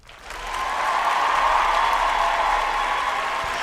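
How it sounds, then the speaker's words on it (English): A smooth, sustained wash of applause rises quickly within the first half-second and holds at an even level, heard alone as the opening of a studio talk show segment. "Hold for applause."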